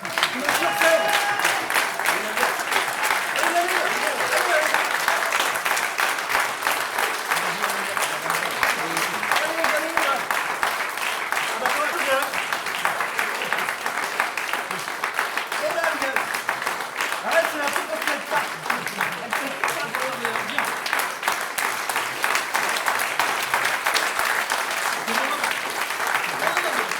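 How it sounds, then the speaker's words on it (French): A crowded audience applauds Madame and Monsieur Gall with long, sustained clapping that settles into a loud rhythmic beat, steady from start to finish. "je vous demande d'applaudir Madame Gall et Monsieur Gall"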